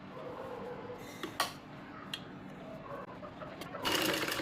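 A sewing machine stitching the drawstring into a baby frock hums faintly and steadily at close range, with a few light clicks and a louder surge near the end.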